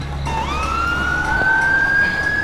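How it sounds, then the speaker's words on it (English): A police car siren wailing during an armed standoff, its rising tone sweeping upward steadily, loud and near over a rumbling vehicle engine. "When I heard Simmons' siren"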